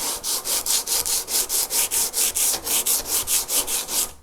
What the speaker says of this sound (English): I'm just going to take a sanding block. I've got an 80 grit pad on here